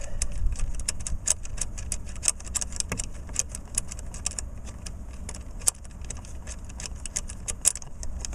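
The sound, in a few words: Honda Accord ignition switch being removed by hand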